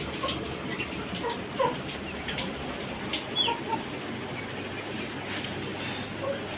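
Chickens on a small backyard poultry farm, with a big hen pecking at chicks, give scattered soft clucks and brief calls over a steady low farmyard hum, moderately near and fairly quiet.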